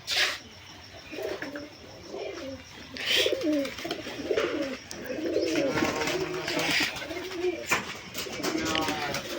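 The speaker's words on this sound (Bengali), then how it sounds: "এই যে পায়রাটা দেখলেন কি গতিতে নামলো" Giribaz pigeons give repeated soft, throaty coos close by, with a few faint chirps and some background voices.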